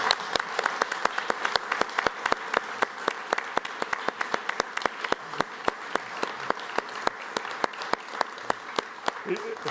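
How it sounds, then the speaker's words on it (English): An audience at a company half-year results presentation gives a round of applause, a steady wash of many hands clapping with sharp individual claps standing out, and a voice talking over it. "I think that deserves a round of applause to finish."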